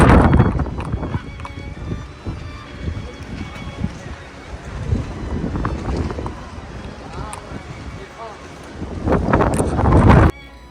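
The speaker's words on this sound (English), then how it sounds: "In the next portion, I'll let you guys hear the wind." Wind gusts across the harbour at Essaouira, Morocco, buffeting the microphone in a loud, rushing roar that rises and falls throughout, with some speech-like sounds and boat-like background noise mixed in.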